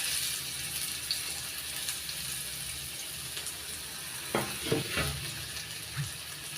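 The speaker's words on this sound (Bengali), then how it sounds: "পেঁয়াজ কুচিটা একটু ভেজে নিয়ে এবার দিয়ে দিচ্ছি থেতো করে নেওয়া রসুন।" Crushed garlic added to chopped onion sizzles steadily in a hot pan, with a few louder stirring scrapes and clatters toward the end and no voices.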